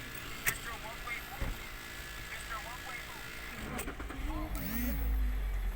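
A manual car's engine is started during driving practice and then idles with a low, steady rumble that builds toward the end, while people talk over it.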